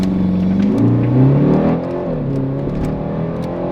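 A four-cylinder BMW revs hard for a launch, its engine note climbing loud and close before easing back and droning on, with a brief shout over it.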